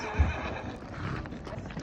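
A horse neighs once at a Turkestan livestock market, a loud close whinny, followed by hoof clip-clop and general market bustle.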